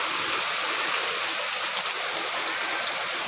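Heavy rain pours down in a dense, continuous roar, blended with rushing water as floodwater starts entering a house; no voices.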